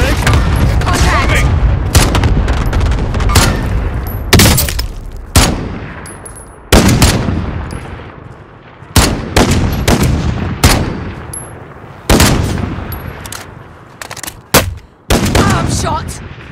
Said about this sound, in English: they're cluster striking us